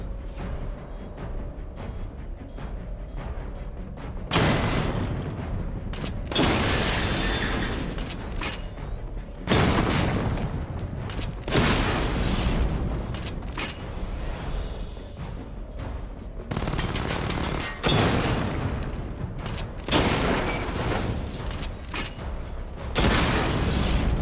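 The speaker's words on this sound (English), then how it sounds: "Charge the missile barrage to level 2 to destroy up to 4 targets at once." Missile barrage fired from the Batmobile in Batman Arkham Knight, with repeated loud bursts of rapid explosive volleys in several separate salvos, each several seconds long, and quieter rumbling lulls between them.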